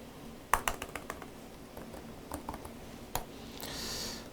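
Keys tapped on a computer keyboard during accounting software data entry, a quick burst of crisp clicks followed by a few scattered presses and a soft rustle at the end, with no speech.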